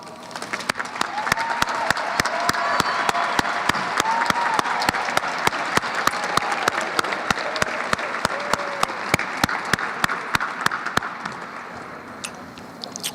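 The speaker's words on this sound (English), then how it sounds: "If you all could please stand so we can give you a round of applause." An audience at a college athletics awards night applauds graduating student athletes, loud sustained clapping from a large crowd with sharp nearby hand claps throughout, easing off near the end.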